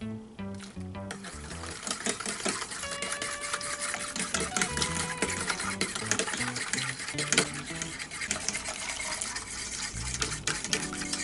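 A whisk beats milk into eggs for homemade eggnog, giving quick repeated metallic clinks and scraping strokes against a bowl in an uneven, busy rhythm, close and fairly quiet, with a few tonal rings between strokes.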